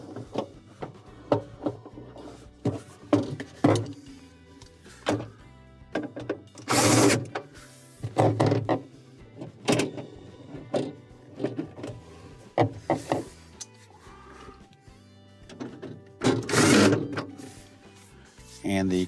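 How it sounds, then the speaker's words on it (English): A power driver sinking 2 1/4-inch screws to fasten a cover, heard as repeated short whirring bursts of varying length, fairly close, with someone talking in the gaps between them. "we will install our 2 1/4-inch screws."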